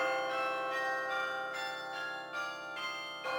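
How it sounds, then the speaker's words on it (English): Bells ring with a sustained metallic tone, struck repeatedly at an even pace of roughly two per second, each strike blooming over a continuous humming resonance with no voices. "Bells."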